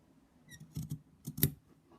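Scissors snip down the middle of layered fabric being cut for chenille, a few short crisp cuts close by at a quiet level with no talk.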